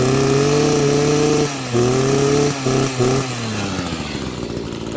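An old string trimmer fitted with a new Hipa carburetor, spark plug, air filter and fuel filter runs loud and close, its two-stroke buzz dipping briefly a few times before settling into a steady idle.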